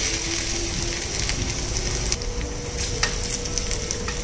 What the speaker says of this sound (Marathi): यात ही ठेचलेले लसूण घालायचे.